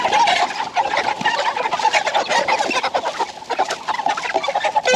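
A flock of chickens cluck and squawk busily together with bursts of wing flapping, close and lively throughout without pause, with no one speaking.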